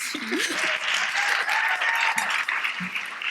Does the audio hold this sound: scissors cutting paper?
no